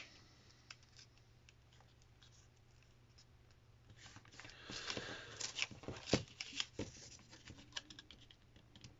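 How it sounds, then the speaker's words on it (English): Paper crinkles and creases near the mic as corners of an origami heart envelope are folded to the center, the rustling growing busier and louder midway. "we're going to take the top right and left corners and we're going to fold them into the center"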